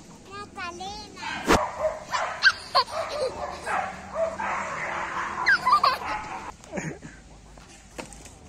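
A small dog in a city park yips and barks repeatedly up close, with whimpers between barks, while people talk throughout.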